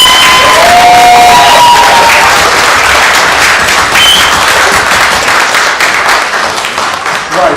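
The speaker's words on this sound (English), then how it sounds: "So a round of applause for the mum." Wedding guests applaud and cheer loudly in a reception hall, a dense, steady wash of clapping with a few whistles and shouts, easing slightly toward the end.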